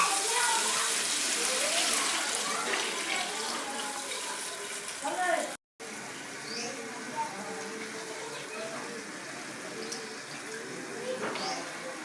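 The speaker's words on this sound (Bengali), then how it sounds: "এবার এই যে নারকেলের দুধটা আমি দিয়ে দেবো" Coconut milk is poured into a pan of prawn malai curry, making a steady liquid pouring and splashing sound close by, with a brief cut midway and faint voices in the background.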